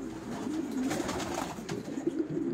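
Homing pigeons coo softly nearby in a loft, a faint run of low burbling coos that repeats through the short stretch.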